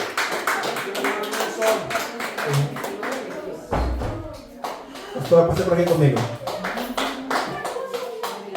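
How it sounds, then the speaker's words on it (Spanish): Church congregation clapping during a Spanish-language worship service, rhythmic hand claps running under someone speaking over them, with some shuffling and thumps nearby. "Denle un aplauso al Señor."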